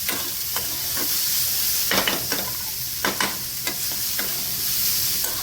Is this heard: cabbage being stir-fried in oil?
yes